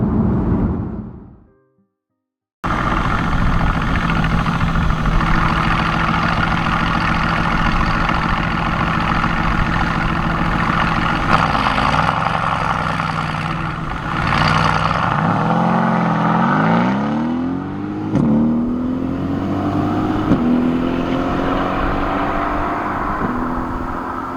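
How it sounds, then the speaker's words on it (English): After a brief gap, a Mercedes-AMG GT S Edition One drones steadily in 7th gear at 75 mph, a loud continuous hum with wind and road noise, pitch shifting slightly at times. "Here we're in 7th gear, 75 miles an hour, not loud, like you could cruise this all day."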